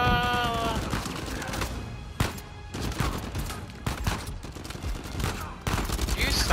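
Rapid video game gunfire, a dense run of bursts and single shots, loud and continuous over a busy mix of game effects.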